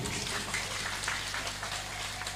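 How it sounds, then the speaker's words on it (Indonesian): A church congregation claps in dense, continuous applause at moderate volume, steady throughout with no voices. "Tepuk tangan dulu."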